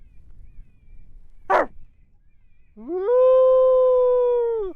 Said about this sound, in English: And that's Dell barking at the coyote.